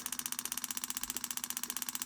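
A car engine with a decent performance cam idling, a fast, even lopey pulse repeating steadily and loudly throughout with no talk.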